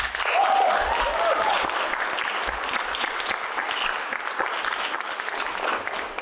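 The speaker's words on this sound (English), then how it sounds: "Another big round of applause for the graduates of Class 58." A crowd at a job-training class graduation breaks into dense, sustained applause, many hands clapping at once in a full, close roar that holds steady throughout, with a brief faint whistle near the start.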